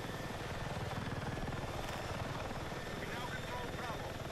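A helicopter in the video game Battlefield 6 thrums continuously with a steady rotor chop and engine whine at moderate level, a voice talking over it.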